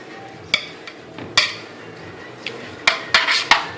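Roast potatoes being turned in a metal roasting pan with sunflower oil, giving several sharp metallic clinks and knocks at irregular intervals, close and fairly loud, with no talking.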